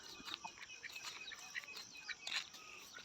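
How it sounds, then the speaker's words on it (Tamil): A rooster on a morning farm, with repeated crowing and clucking calls among other bird sounds, moderately near, no talking. "சேவல் பார்த்திங்கன்னா"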